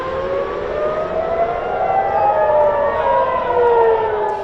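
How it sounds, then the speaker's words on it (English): A wailing warning siren with slowly rising and falling tones, loud and sustained throughout, layered with a second overlapping siren at a distance. "In Israel, sirens are sending residents to seek shelter as Iran retaliates with missiles and drones"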